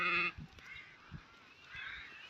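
Sheep bleat near a rural Turkish home, a single loud cry at the start, then quieter shuffling and faint bleats in the background.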